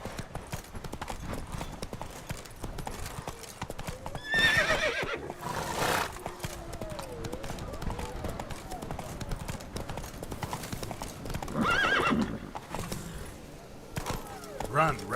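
Roach, the horse in The Witcher 3, gallops with a fast, steady clip-clop of hooves and a couple of loud whinnies, under talk.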